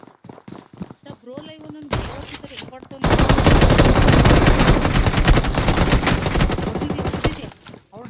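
Gunfire in the BGMI battle royale video game, with single sharp shotgun blasts followed by a long dense burst of rapid shots; a player's voice is heard early on.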